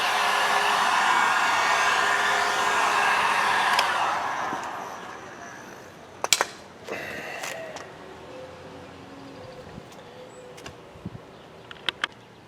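A heat gun blows a steady, loud hiss while warming vinyl wrap on a car mirror cap, then cuts off, leaving scattered taps and light handling noises.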